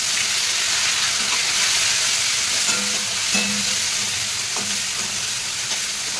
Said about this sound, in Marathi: टोमॅटो छान तेलामध्ये शिजून घ्यायचा।